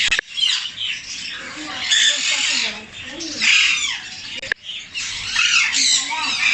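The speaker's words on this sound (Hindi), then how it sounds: "ये तोते नहीं है, ये डव है।" Agitated dove calls up close among pet parrots: harsh, repeated squawks and raspy chirps in bursts, fairly loud, with a voice talking over them.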